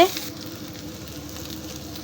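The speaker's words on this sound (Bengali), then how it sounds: "আমি এখন পুরটা বানিয়ে নিচ্ছে" Puri flatbread frying in hot oil gives a steady, close sizzle that runs evenly and alone, opening with a brief louder burst.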